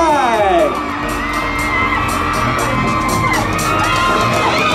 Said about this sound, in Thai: ขอเสียงปรบมือกับทั้ง4คนด้วย